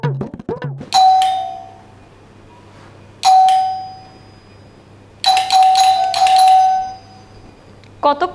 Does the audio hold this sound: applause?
no